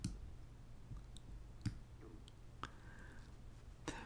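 Computer mouse clicks made while the Control key is held down, a few sparse, faint, sharp clicks spread apart over a quiet background with no one talking.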